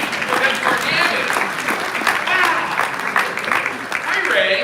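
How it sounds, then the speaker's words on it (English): An audience at a live stock-trading training session claps for a presenter named Ray. The applause is dense and sustained, and a voice talks over it. "I was going to have to give Ray a big round of applause"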